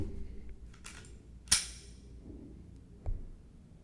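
A Shadow Systems CR920 pistol being dry-fired gives one sharp, crisp trigger-break click, followed a moment later by a softer reset click, both close and distinct against quiet room noise.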